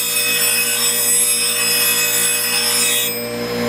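A knife bevel is ground against a belt grinder using a grind fixture, a loud, continuous rasping abrasive whine that holds steady and then eases slightly at the end, with no talk.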